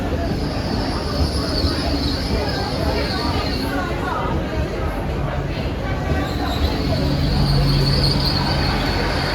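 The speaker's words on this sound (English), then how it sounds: "Arriving in now is the 2105 Great Western Railway service from London Paddington to Taunton." Great Western Railway Class 800 train, unit 800 314, pulling into Bristol Temple Meads, a continuous rumble with wheel and brake squeal in station ambience, under a person talking.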